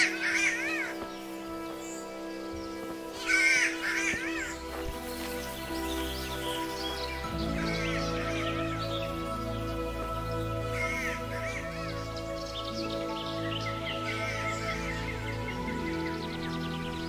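Several crows caw in short bursts against steady background music in the medieval game Kingdom Come: Deliverance, with some smaller birdcalls scattered through the scene.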